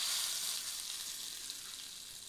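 Cumin and curry leaves sizzling in hot tempering oil for a chutney, a brief, steady, hissing crackle that fades slightly and plays alone with no voices.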